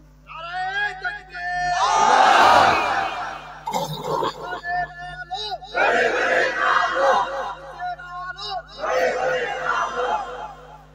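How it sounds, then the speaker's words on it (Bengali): A large crowd roars a takbir chant in loud, swelling bursts, three big waves of massed shouting separated by brief dips, at an Islamic religious sermon gathering. "কে পারেন দেন তাকবীর দেন।"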